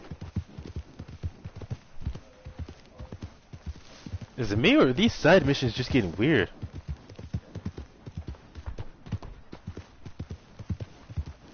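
A horse clip-clops at a steady walking rhythm through a Red Dead Redemption video game scene, hoofbeats pressing forward while someone talks over them; a short stretch of louder ambient sound rises midway.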